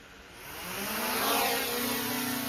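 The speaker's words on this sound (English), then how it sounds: "We'll start the motors, and we'll just see if we can do a hover." Small Skyrover X1 Mini drone motors spinning up for an indoor manual takeoff, a rising whine that swells and steadies into a continuous buzzing hum, close by and alone.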